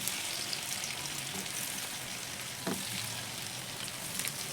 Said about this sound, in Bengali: একে একে আমি স্ন্যাক্সগুলো যে বানিয়ে রাখা স্ন্যাক্সগুলো তেলের মধ্যে ছেড়ে দিচ্ছি